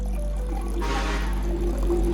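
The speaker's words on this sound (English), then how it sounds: "Then fill the container with warm water." Warm water poured into a container to steep ginger, a steady close-up splash and trickle that swells for about half a second and then tapers into a softer, continuing flow.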